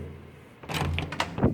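A hotel room door swings shut with a solid thunk and a short latch clatter, loud and close, after a second of near silence.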